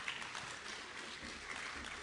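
Audience applause after a lecture by Dr. Rafael Guerrero García, a steady, dense wash of clapping that holds at an even level for the whole stretch with no voices on top.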